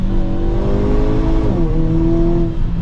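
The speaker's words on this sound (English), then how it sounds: "So just tap that once, it downshifts," A 2023 Hyundai Kona N engine drones loud and near, then a quick downshift near the middle sends the revs dipping and rising again as the car accelerates.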